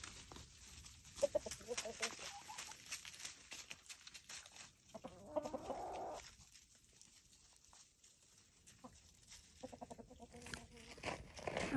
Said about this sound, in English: I'm just letting our chickens out for the day.